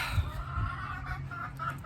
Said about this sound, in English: these chickens are horrible.